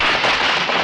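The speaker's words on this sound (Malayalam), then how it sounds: "പടക്കം" Firecrackers burst in a short, loud, dense crackling blast that fills the moment, with no talk over it.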